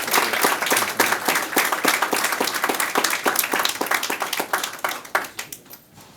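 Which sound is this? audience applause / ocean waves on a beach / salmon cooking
audience applause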